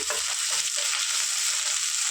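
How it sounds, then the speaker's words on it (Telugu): Ginger garlic paste fries with onions in a pan, a steady bright sizzle holding level throughout with a few soft low stirring bumps near the start, close and alone with no talk. "ఇప్పుడు కొంచెం అంతా అల్లం వెల్లుల్లి పేస్ట్ వేస్తున్నాను నేను ఒక స్పూను దీన్ని కూడా ఫ్రై చేద్దాం"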